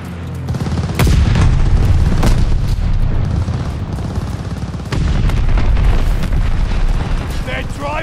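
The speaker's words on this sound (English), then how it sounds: "Allies called a bombing run." Heavy bombing-run explosions pound a snowy battlefield in Call of Duty: Vanguard on the Demyansk map, two big booming impacts with continuous rumble and scattered gunfire, under faint in-game voice callouts.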